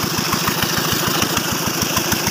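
A Peter diesel engine drives a borehole water pump in a makeshift Pakistani rig, chugging steadily at idle with a fast, even knocking beat, close and loud throughout with no talk.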